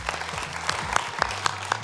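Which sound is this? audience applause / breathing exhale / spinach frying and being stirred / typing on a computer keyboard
audience applause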